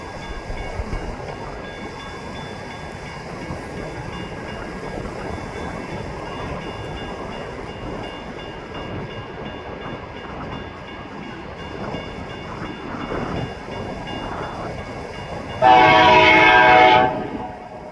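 Amtrak Heritage Unit locomotive rolling past with a steady rumble of wheels and rail noise throughout, then a loud horn blast near the end lasting over a second.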